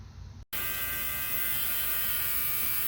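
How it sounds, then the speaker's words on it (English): An ultrasonic cleaner runs nearby with a steady, even electric buzz that starts after a brief gap and holds constant to the end. "ultrasonic cleaner running in the background"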